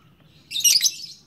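A male lovebird lets out a short, fairly soft burst of high chirps and tweets lasting about half a second, with quiet background murmur before it.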